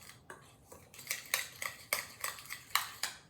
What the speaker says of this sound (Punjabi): ਇਹਨਾਂ ਨੂੰ ਵੀ ਆਪਾਂ ਮਸਾਲਿਆਂ ਨੂੰ ਸਾਰਿਆਂ ਨੂੰ ਮਿਕਸ ਕਰ ਲੈਣਾ ਆ